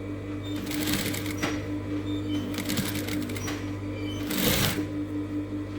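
A sewing machine runs in short bursts, sewing a closing seam along the underside of a garment collar, with steady nearby hum and rapid stitching clatter.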